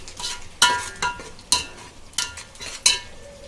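A masala mixture with lemon juice being stir-fried in a pan for Chinese biryani: about six crisp scraping stirring strokes in an uneven rhythm over a soft background sizzle, close and fairly loud. No talking.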